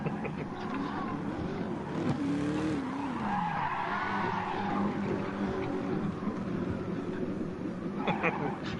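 A car skids with the handbrake pulled, its tyres squealing in a rising and falling screech over engine noise, heard at moderate distance.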